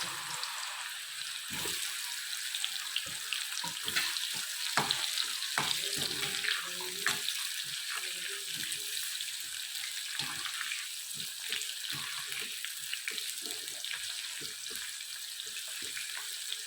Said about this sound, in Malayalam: കുറേശ്ശെ ഇട്ടിട്ട് മാങ്ങ വറുത്തെടുക്കാം കേട്ടോ.